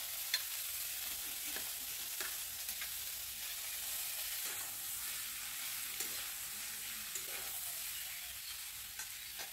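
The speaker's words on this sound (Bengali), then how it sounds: "এখন দিয়ে দিব আলু।" Potatoes sizzle in hot oil on a clay stove while being stirred, a steady crackling hiss with faint scraping strokes from the utensil, close and continuous without talk.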